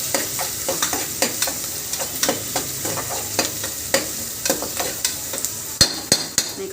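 Garlic and curry leaves sizzle in hot oil in a pan while a spoon stirs and scrapes in quick, irregular strokes, loud and close, while a Chettinad mutton kulambu is being cooked.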